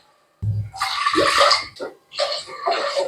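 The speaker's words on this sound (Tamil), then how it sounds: "இதுக்கு மூணு டம்ளர் தண்ணி ஊற்றிக்கிறேன்" Water splashes and gushes into a pot of rice nearby in two pours, three tumblers in all, the second following a brief break.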